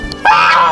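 A goose gives a single loud, close honk at a small zoo in a city forest park in Denizli, a short nasal blast after a brief quieter moment.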